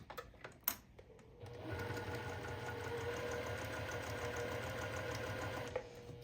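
Sewing machine stitching a quarter-inch seam joining quilt patchwork pieces for a Churn Dash block, a steady close mechanical hum and rapid needle clatter running continuously after a few brief handling knocks.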